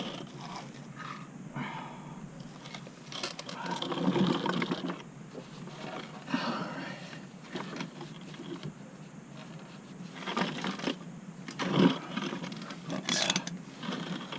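A ratchet clicks steadily as the drain plug is tightened on a Dodge Durango SRT with the 6.4L 392 HEMI during an oil change, a close, repetitive mechanical ticking with no speech.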